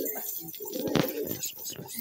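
Madrasi pigeons coo at a pigeon sale. Soft, close cooing is mixed with someone talking over it during a short stretch.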